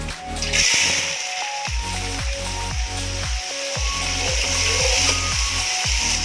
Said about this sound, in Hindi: अब प्याजों को गोल्डन होने तक हम फ्राई करेंगे